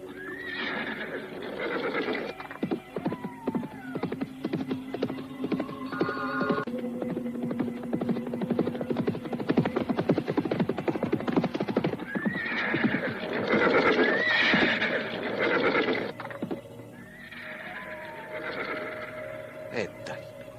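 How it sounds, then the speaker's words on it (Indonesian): A loose black horse neighs and whinnies repeatedly while hooves clip-clop at a gallop, loud and near, over a steady background hum with some talk. "Lihat, kuda siapa terlepas tuh."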